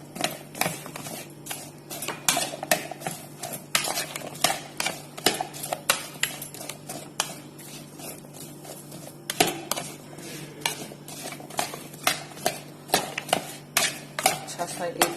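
A spoon stirs and mixes chola pulao in a pan, giving dense, rapid metallic clinks and scrapes throughout against a low steady hum.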